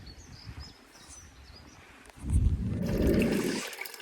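Water from a fountain in the Brocéliande forest pours into containers, a gushing splash rising suddenly after quiet moments of faint birdsong and trickling, then cutting off.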